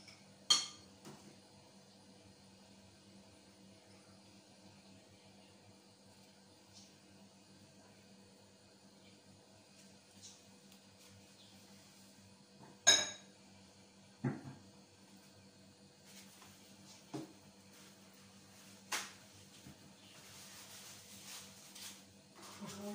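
Two small spoons mix cream cheese with carrot and pickle in a bowl, giving sparse, faint clinks and scrapes against a quiet background, with a few sharper knocks of metal on the dish spread across the stretch.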